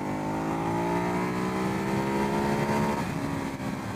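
A Ducati Hypermotard SP motorcycle accelerates hard, its engine note climbing steadily through the revs in a smooth, continuous rising drone, loud and up close.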